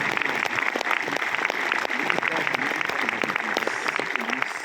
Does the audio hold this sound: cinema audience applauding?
yes